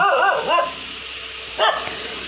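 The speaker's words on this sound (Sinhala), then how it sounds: "ඔන්න බලන්නකෝ අපේ බල්ලා බුරන හැටි. මොකද මෙයා වාහනේ අඳුරගත්තේ නැති නිසා බුරනවා." A household dog barks at an unfamiliar newly arrived vehicle, giving a quick burst of close yapping barks, a pause, then another short bark.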